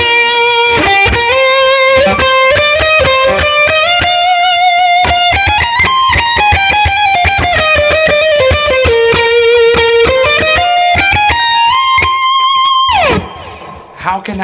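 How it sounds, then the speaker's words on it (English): A guitar solo rings out on an overdriven electric guitar, a loud sustained lead line with bending, gliding notes over a busy backing. It stops abruptly near the end, leaving a brief quieter tail. "I mean, it's an electric guitar solo."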